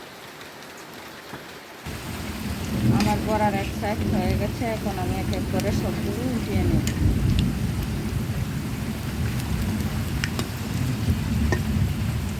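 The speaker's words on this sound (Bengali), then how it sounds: "আর এদিকে বাহিরে কিন্তু প্রচুর বৃষ্টি হচ্ছে" Heavy rain pours outside, a dense steady hiss that holds throughout while someone talks over it nearby.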